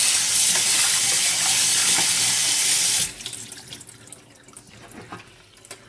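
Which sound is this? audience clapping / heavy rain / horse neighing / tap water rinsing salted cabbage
tap water rinsing salted cabbage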